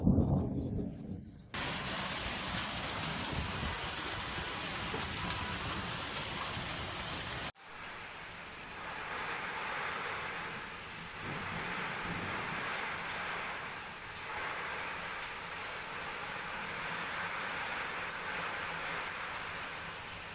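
A storm with rain and gusting wind in Europe, a loud continuous rushing hiss that swells and eases in waves, with low rumbles beneath and an abrupt cut partway through.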